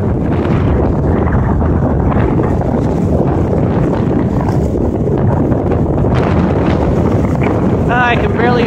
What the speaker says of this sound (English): everyone else is just getting beaten by the wind